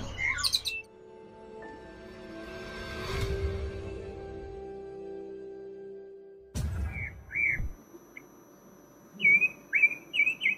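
Songbirds at Pramuka bird market in Jakarta chirp and whistle in short bursts amid a low rumble of activity, including a loud clatter partway through; the calls are clear and fairly close.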